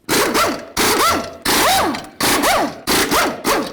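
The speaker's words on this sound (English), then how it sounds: "remove your center cover, remove your lug nuts" Impact or air wrench spinning lug nuts off a 2006-10 Dodge Charger wheel, five loud close bursts of whirring, rising and falling tool noise separated by short pauses.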